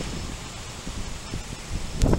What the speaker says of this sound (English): That is the wind, likely.